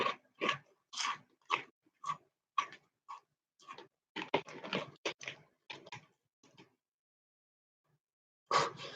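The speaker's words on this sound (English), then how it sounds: "What a good crunch, though." A crunchy Korean snack is bitten and chewed close to the microphone, a rapid series of sharp, loud crunches that stop for a pause and then return with one final bite.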